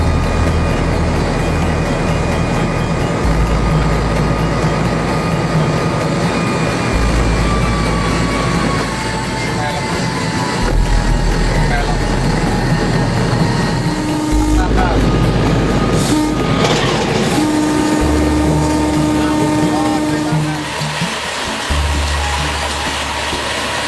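Historic locomotive running under steady loud low rumble, with stepped engine drone changes, rail clatter and a brief horn-like tone near the middle, heard from close by with faint voices.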